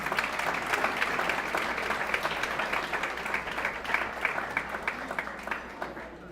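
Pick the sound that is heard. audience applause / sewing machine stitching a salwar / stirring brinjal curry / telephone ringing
audience applause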